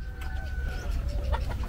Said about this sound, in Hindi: और कितनी मुर्गियों का परिवार है आपका?